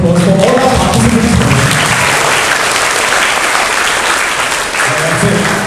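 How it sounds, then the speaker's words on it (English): Loud, sustained applause fills a school hall for participants of a patriotic competition at Don Bosco School, Borivli West, a thick roar of many hands clapping steadily throughout. "Let's just give a huge round of applause for all our participants."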